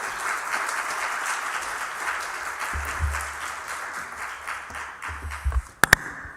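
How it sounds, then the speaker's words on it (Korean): A church congregation warmly applauds to welcome a guest pastor before a Sunday sermon. Steady, dense clapping fills the room, with a low hum and a few sharp taps near the end. "우리 목사님 따뜻하게 박수로 맞이하도록 하겠습니다"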